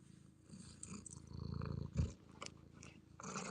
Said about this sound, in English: My cat's in the room. My cat's here is being crazy right now.